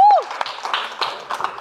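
Scattered audience applause in a comedy roast show, uneven hand claps at a moderate distance that follow a short burst of sound at the start, with no speech over them.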